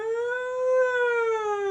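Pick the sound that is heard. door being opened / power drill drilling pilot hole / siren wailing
siren wailing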